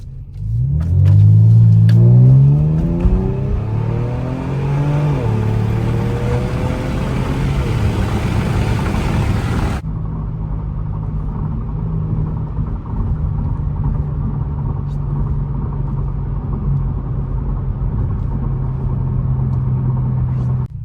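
A sports car in sport mode with traction control off revs hard and accelerates, its engine climbing in pitch through several rising surges, then settles into a steady loud rumble as it cruises.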